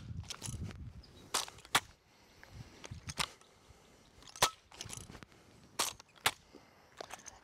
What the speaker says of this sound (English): So a double right shoulder toss looks like this.